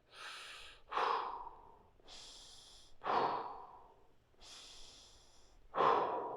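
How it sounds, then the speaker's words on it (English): Slow, deep breaths through the nose during a lower-body fascia exercise: three full cycles, each a soft hissing inhale followed by a louder, rushing exhale, close to the microphone and alone. "I'm going to breathe through my nose here a little bit."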